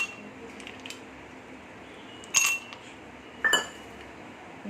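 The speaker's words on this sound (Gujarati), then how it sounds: "આપણે 2 ગ્લાસ લઈ લીધા છે અને આપણે એમાં બરફના ટુકડા ઉમેરી દઈશું." Ice cubes drop into two glasses for chilled drumstick sherbet, giving two brief, bright clinks about a second apart over a quiet room background.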